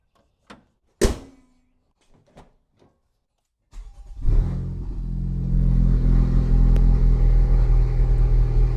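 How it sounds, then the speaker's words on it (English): A few clicks and a sharp door-like thump give way to a Honda Civic Type R FK8 engine cranking and catching, then settling into a loud, steady idle rumble close by. "let's actually see if the car will start."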